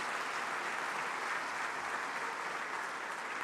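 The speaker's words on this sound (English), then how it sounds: "Let's celebrate with a resounding round of applause." A dense, sustained round of applause from a large audience at the 30th Afreximbank Annual Meetings, steady and loud throughout with no voices standing out.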